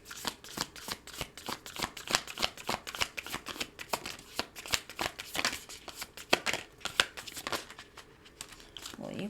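Moonology oracle cards are shuffled in a rapid run of crisp riffles and flicks, close and fairly soft, with brief pauses between bursts.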